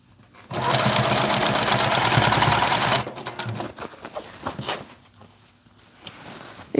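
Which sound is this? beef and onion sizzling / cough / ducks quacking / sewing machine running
sewing machine running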